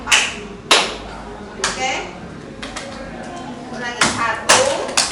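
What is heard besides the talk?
rhythmic group hand clapping in an ice-breaking game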